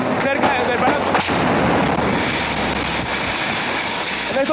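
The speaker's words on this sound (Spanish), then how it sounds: "exactamente en este momento está cayendo uno de los cohetes cerca del Palacio" Near Miraflores Palace, a rocket fired from a Bronco plane lands with a heavy, booming blast amid several sharp cracks, followed by a broad, rolling roar.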